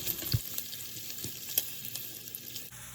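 Onions and minced garlic sauté with crisped bacon for collard greens, giving a soft, steady sizzle with a few faint pops and stirring taps, fairly quiet and alone without voices.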